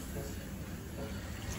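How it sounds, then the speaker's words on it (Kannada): Water pours into a cooking pot during home festival cooking for Ugadi, a brief, steady, even splash heard close by. "ಇವಾಗ ಇದಕ್ಕೆ ಸ್ವಲ್ಪ ನೀರು ಸೇರಿಸ್ಕೊಂಡು"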